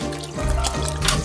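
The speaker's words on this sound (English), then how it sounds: "And then I'll fill them with water again and rinse out any dirt." Water pours and trickles into cut leek pieces in a small galley kitchen on a boat, a short close splashing fill with a gentle gurgle.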